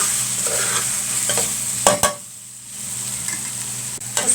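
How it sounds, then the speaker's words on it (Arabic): Meat sautéing with onion, garlic and spices in a pan gives a steady bright sizzle, broken by a few sharp scraping stirs and a short quieter lull, close and loud with no talking. "اللحمه اتشوحت بالبصل بالثوم بالتوابل كلها"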